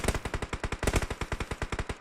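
Rapid automatic gunfire in an online shooter video game, a loud, evenly spaced burst of about twenty close shots in quick succession with no talk.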